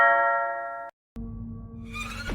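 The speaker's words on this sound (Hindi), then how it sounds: "अदिति के कमरे की डोरबेल बजा दी" A two-tone ding-dong doorbell chimes at a hotel room door, each tone ringing clearly and alone, with a short silent gap between the notes.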